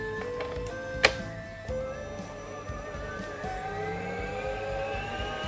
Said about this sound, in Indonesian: Di sini aku menggunakan stand mixer MX100 dari Mito yang berkapasitas 5 liter.